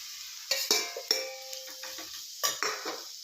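Potato pieces tossed into a hot pan with chilli and stirred, giving a few sharp scraping knocks and clatters over a soft background sizzle, close and fairly quiet.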